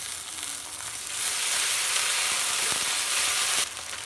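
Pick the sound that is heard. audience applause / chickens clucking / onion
onion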